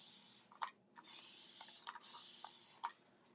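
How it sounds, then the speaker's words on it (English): A spray bottle mists water onto a painted wooden sign in four or five sustained hissing bursts, each broken by short pauses and soft handling clicks. "Okay, now we spray."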